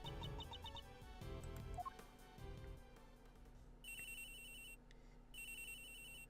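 A phone rings in the game Ace Attorney Investigations 2, two bursts of bright electronic trilling in the latter half after soft game sounds and chimes, faint overall.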